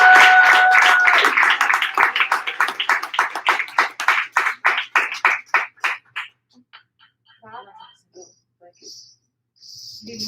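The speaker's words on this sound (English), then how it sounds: "So another round of applause, if possible, for Liliana Araújo and Carlos Oliveira." Applause for two performers at a Brazilian literary reading event, loud clapping that thins into a few scattered claps and fades out over several seconds, ending in near silence with faint sounds.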